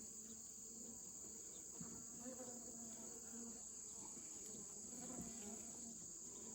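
Honey bees buzz around an open hive on a farm, a steady, faint drone of many wings hovering near and far with no voices.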